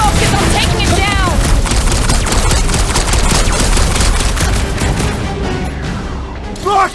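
Rapid bursts of gunfire and booming blasts in the Guardians of the Galaxy video game, loud and nearly continuous combat fire with dense overlapping shots and a few sharp effects near the end.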